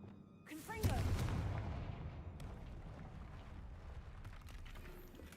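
A Confringo blast curse from Hogwarts Legacy erupts in a deep, rumbling boom that swells quickly and then slowly fades into a long, airy tail.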